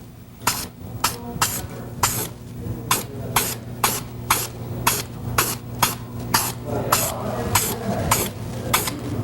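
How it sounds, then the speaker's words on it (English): An aerosol spray can lays a primer coat on a repaired patch of car body, sending out a long series of short, sharp hissing bursts at a quick, uneven rhythm, close up and with no talking. "And now you're mostly just priming the area that we fixed."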